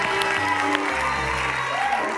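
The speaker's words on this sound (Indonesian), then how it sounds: "boleh kita kasih tepuk tangan buat Hotma." Applause from a studio audience on the dating show Take Me Out Indonesia, continuous and fairly loud beneath sustained musical tones from the studio band.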